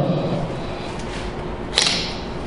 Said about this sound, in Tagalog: paparingan ko sa inyo yung mabilis na shutter speed